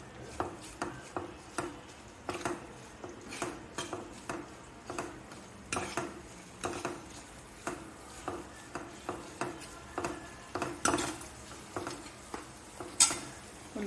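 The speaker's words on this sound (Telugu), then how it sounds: "ఉల్లిపాయలు వేగుతున్నాయి కదా అండి." Onions, green chillies, curry leaves and cumin seeds fry in a pan with rock salt while a spatula scrapes and taps the pan in a steady, repeating rhythm over a soft sizzle.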